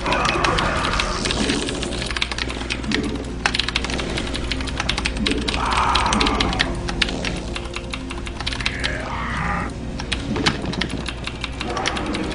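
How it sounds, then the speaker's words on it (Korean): Steady clicking of keys on a Filco Majestouch 2 mechanical keyboard, typed fast and continuously throughout, with game sounds and some voice activity mixed underneath. "키보드 필코 마제스 터치 2."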